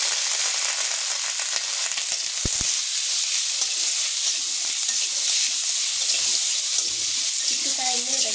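Pieces of bottle gourd sizzle in a hot pan as they fry for a sweet zarda dish, giving a continuous close hissing crackle with a brief clatter and some talking near the end.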